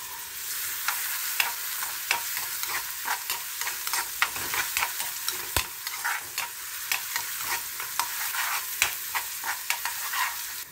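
Garlic and red onions sizzle in hot oil for pork menudo, a steady close crackle broken by regular scraping stirs of a spatula in the pan.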